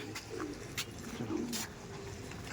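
Andhra Madrasi pigeons give a few low, soft coos close by, broken by brief wing flutters or clatters, with no voices over them.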